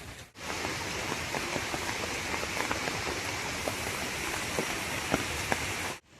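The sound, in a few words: heavy monsoon rain in Konkan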